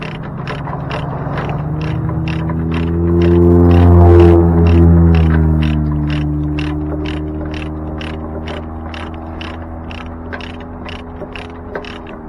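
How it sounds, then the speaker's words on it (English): Ratchet straps are cranked tight with a long run of rapid, evenly spaced clicks over a low mechanical hum that swells briefly, loud and close with no talking. "we're really going to torque these straps down"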